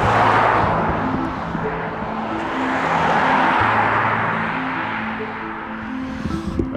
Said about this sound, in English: So this is the main road between Sidmouth and Exeter